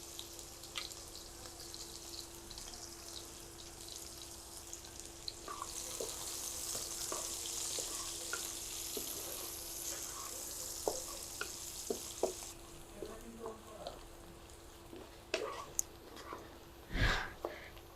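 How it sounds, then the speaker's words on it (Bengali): Half a cup of onions with two cinnamon sticks and four cardamom pods fries in a pan, a soft sizzle with occasional stirring clicks and scrapes, fairly faint and close, without talk. "পেঁয়াজটা ভেজেছি, আর ভাজা লাগবে না, একটু কালারটা চেঞ্জ হলে হবে।"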